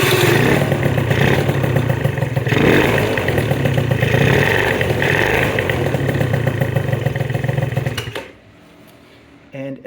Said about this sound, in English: And now the engine runs just fine.